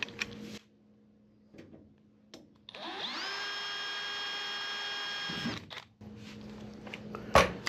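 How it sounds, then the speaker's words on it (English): Power drill whining steadily for about three seconds as it bores a second rivet hole for a nutplate in a Sonex aircraft engine cowling, close up, with quiet handling noises before and after. "And drill the second rivet hole."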